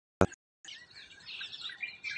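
Sparrows chirp in the morning in a quiet, thin chatter of overlapping high tweets, faint and continuous after a brief knock and a short silence, with no one talking.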